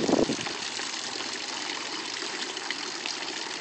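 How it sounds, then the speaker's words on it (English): Water splashing and churning steadily as a dog swims in its first swim of the season, a continuous close wash of water noise with a brief louder splash at the start. "That's your first swim of the year, Raleigh"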